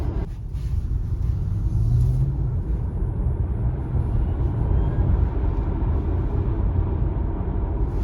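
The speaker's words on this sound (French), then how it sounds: "On a le bruit du moteur qui se met en route. On a un sifflement qui est plus prononcé que moi dans ma Model 3." A Tesla Model Y rear-wheel-drive 2023 electric car accelerating on the road in 5-degree cold, a steady low rolling rumble with a faint motor whine, continuous and even throughout with no voices.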